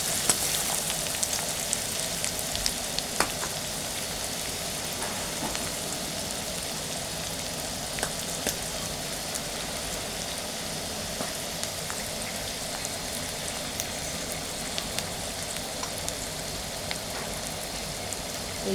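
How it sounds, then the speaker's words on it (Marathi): Chopped onion fries in hot oil with a pinch of asafoetida, a steady soft sizzle and crackle that continues evenly throughout with occasional small pops. "एक चिमटीभर हिंग घातल्यानंतर कांदा छान लाल होईपर्यंत परतून घ्यायचा"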